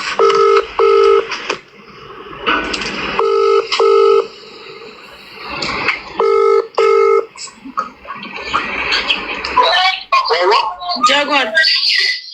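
Telephone keypad tones dialing a call ring out in several clear pairs of bursts, loud and close, with background voices and other noises between and after the dialing.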